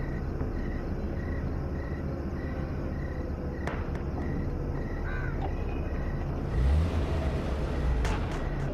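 Car driving along a road at night, a steady low engine and tyre rumble beneath constant chirping crickets, with a brief louder swell of passing motion near the end and no voices.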